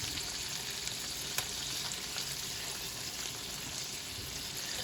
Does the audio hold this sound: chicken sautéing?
yes